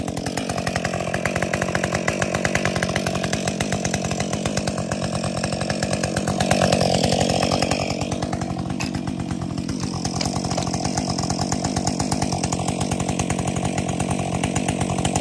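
A chainsaw runs steadily for the whole stretch, loud and close, cutting through dead ash hazard trees on a logging job, its engine briefly swelling midway with no voices.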